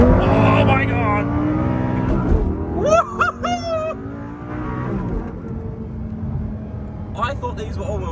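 A first-generation Lamborghini Gallardo Superleggera launches hard from a standstill, the engine note climbing loudly at the start before easing, while excited voices talk over and after it.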